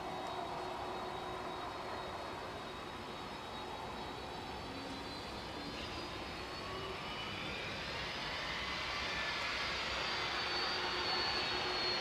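A FedEx Boeing 767 jet freighter at East Midlands Airport roars at a distance, a faint broad rumble with a rising whine that grows slowly louder toward the end.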